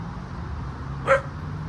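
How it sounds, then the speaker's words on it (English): A small dog lets out one quick, sharp bark, close and distinct over a low background hum, with no talking. "That little dog is acting crazy, and Raylan's just staying there."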